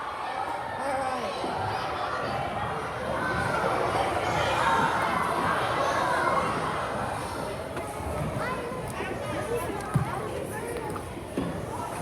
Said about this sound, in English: I know you were excited about the yee-haws. All right, so that is called the cowboy cheer.